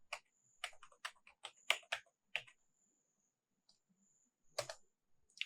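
Bursts of quick keystrokes on a computer keyboard as a folder name is entered, a flurry of crisp clicks, a pause of near silence, then a few more keys tapped, close and clear with no talking.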